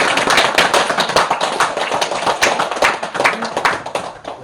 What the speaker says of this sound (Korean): 이때 박수가 한번 나가야